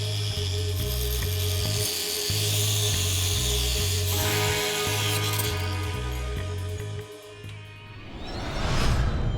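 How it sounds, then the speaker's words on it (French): Angle grinder cutting open the lock on a storage box, a close, loud steady grinding drone with rhythmic pulsing, ending in a rising whoosh as the cut finishes. "Meuleuse, s'il vous plaît."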